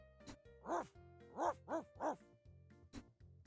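A cartoon dog in a flower shop video game gives several short yappy barks and yips in quick succession, bright and close, set over a looping game music bed.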